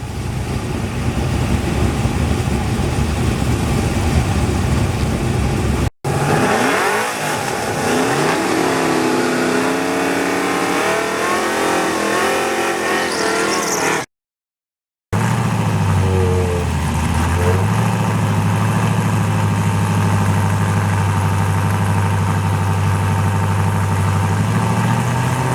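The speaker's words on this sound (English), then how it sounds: "my dad to make his first pass with the naturally aspirated LS in the Camaro" A naturally aspirated LS-powered Camaro street car makes a drag strip pass, a loud, sustained engine roar rising in pitch through gear changes and then settling into a lower steady drone, with a brief dropout mid-run.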